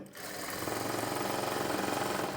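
A sewing machine runs steadily, stitching piping onto pulled, tightened cloth with a fast, even mechanical rattle. It sounds close and continuous, with no talking.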